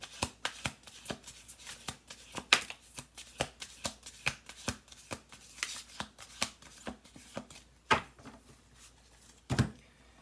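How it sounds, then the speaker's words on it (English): Cards being shuffled by hand, a series of sharp riffling bursts and soft taps in an irregular rhythm, close and fairly quiet. "One more shuffle."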